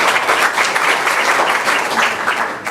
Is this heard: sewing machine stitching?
no